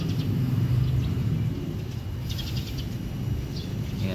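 Racing pigeons coo softly and continuously at a loft, a low warbling murmur under faint background rumble, with a few thin chirps drifting in from farther off.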